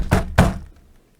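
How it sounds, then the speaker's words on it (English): Two loud, heavy knocks pound on a door in quick succession, a deep thumping pair followed by a fading tail and then quiet. "so there's loud knocking at your door"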